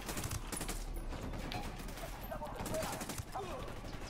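Rapid bursts of gunfire from the video game Ghost Recon Wildlands, a dense loud volley of repeated shots with overlapping reports running throughout, with some game voice in the background.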